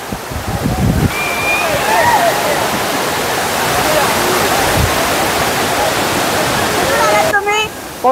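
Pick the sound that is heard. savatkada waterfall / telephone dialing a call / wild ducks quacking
savatkada waterfall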